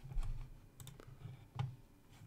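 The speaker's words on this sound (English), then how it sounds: "let me just type in SoundCloud" Typing on a computer keyboard gives quiet, close key clicks in short, irregular bursts with small pauses, and no voice over them.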